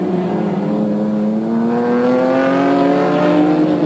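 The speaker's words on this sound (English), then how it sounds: "Noisy gearbox in the Nissan. Clunk, clunk, clunk." A Nissan touring car at a 1989 Australian Touring Car Championship round at Mallala, engine note climbing steadily as it accelerates, loud and close, with a noisy clunking gearbox.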